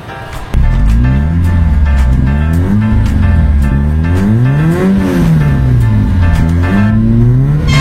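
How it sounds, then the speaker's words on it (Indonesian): A car engine warming up with the air conditioning on kicks in after a brief pause, then idles with a rich, close hum that rises and dips in pitch as the revs shift. "kita panasin dulu mobil, dinginin AC"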